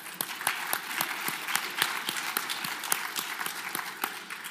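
A roughly 400-person audience at a presentation applauds itself with steady, dense clapping that holds at an even level for several seconds.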